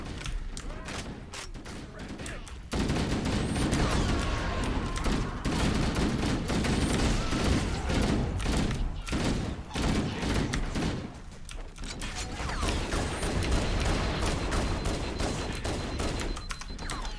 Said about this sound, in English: if you see me burst firing with the MA5B assault rifle